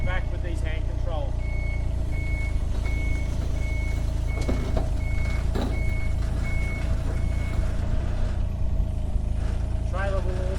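A 1.7-tonne mini excavator tracks backward with its blade raised, its reversing alarm beeping in a steady row of evenly spaced tones over a constant loud engine drone, with a few clanks, and a voice speaks at times.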